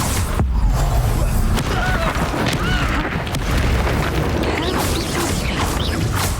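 The Confringo fire spell detonating in Hogwarts Legacy on Nintendo Switch, with heavy booming impacts and crashing mechanical clatter layered through a continuous loud combat mix.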